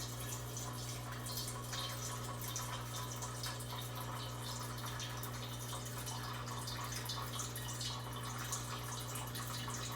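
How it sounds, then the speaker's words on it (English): Water running steadily into a bowl for a shrimp and snail tank, a constant close splashing rush with no pauses and no voices. "I'm gonna start off by filling this bowl with some water"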